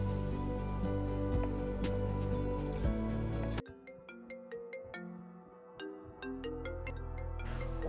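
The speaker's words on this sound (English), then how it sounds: "My phone ringing like crazy." A phone ringtone chimes over and over in a steady repeating pattern, with a melodic tone and a brief quieter gap partway through.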